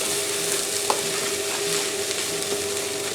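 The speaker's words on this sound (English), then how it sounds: "mix it up. Make sure you coat all the chopped meat." Chopped meat for hot dog sauce sizzles softly in a pan as it is stirred, a steady low crackle with faint scraping, no voices.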